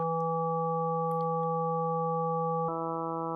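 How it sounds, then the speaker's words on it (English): A steady tone from a Rebel Technology and Befaco Lich synthesizer module holds with a buzzy, hollow timbre, then abruptly shifts to a thinner, square-like sound. "which forcing the oscillator to sound more like a square wave"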